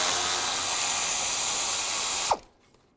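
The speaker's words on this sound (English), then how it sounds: "On the top part of the fans, there's two bolts. Use a 10mm socket." A 10mm socket turns out the top bolts on a car's radiator fan assembly, a steady close whirring rattle for about two seconds that stops abruptly with a brief clink as the bolt comes free.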